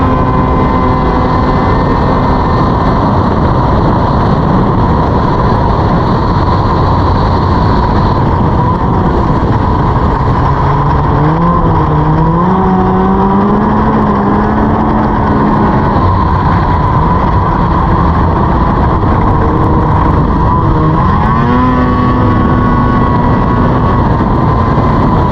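Race snowmobile engine running loud and continuous throughout, its pitch rising and falling as the sled speeds up and slows during laps, with no talk.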